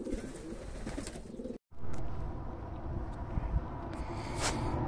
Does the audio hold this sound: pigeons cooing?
yes